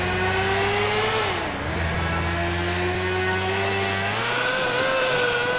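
Motorcycle engine in GTA 4 revving steadily with sustained harmonic drone, pitch dipping briefly then climbing again, loud and close with no talk over it.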